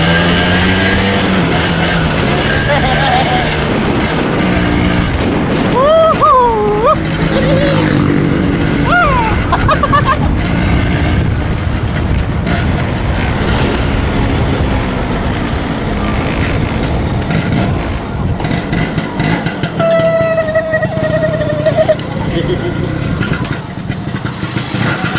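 Engines of a 1995 and a 1987 Vespa scooter rev loudly and continuously, rising and falling with pitch sweeps, while people talk over them nearby.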